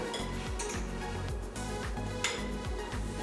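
Flax egg scooped into a vegan persimmon pie filling, a run of soft repeated scraping and clinking of utensil against bowl, close and rhythmic over a quiet background.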